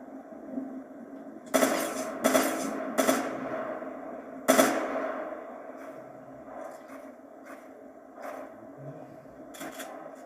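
Gunfire from an online battle royale video game: several sharp, loud bursts of shots in quick clusters, followed by fainter scattered distant shots and game ambience, with no talking.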